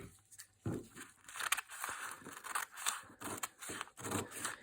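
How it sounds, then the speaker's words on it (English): Scissors snip paper being trimmed for an origami house, a quick run of close, crisp cuts with short pauses between bursts, quiet and with no speech. "I'm going to trim this section off here"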